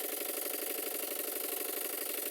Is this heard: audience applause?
no